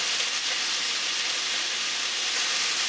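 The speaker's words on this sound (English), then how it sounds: "I'm making sure that all of the meat gets properly seared on the outside" Meat sears in a pan alongside mushrooms, producing a dense, even hiss of sizzling that holds steady and fairly loud throughout with no talking.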